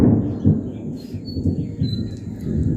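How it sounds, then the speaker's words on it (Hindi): Low rumbling thunder rolls beneath dark storm clouds, a continuous deep murmur with swelling pulses, fairly near and steady. "ये मेघ गरजने का आवाज है, पूरा बादल लगा हुआ है"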